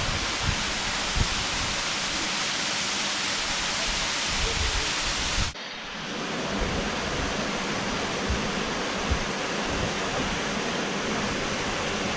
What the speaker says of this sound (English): enjoy the sound of the water and the view of the falls